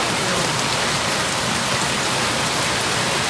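Steady, heavy rain pouring down, a dense continuous hiss close by with no breaks and no voices.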